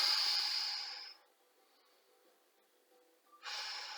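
A deep breath during a yoga session: a strong breathy exhale fades away, a quiet pause follows, then another breath begins, close and alone.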